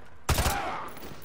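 A single sniper rifle shot in the game Modern Warfare 2 Remastered cracks out loud and close, then trails off into a brief echoing decay.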